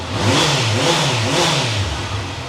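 A smooth motorcycle engine revs up and eases off in steady waves, close and fairly loud, with no talking.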